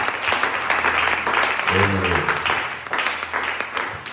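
A church congregation applauds together, a dense, steady wash of clapping that holds for several seconds, with a brief low voice or murmur rising from the crowd partway through.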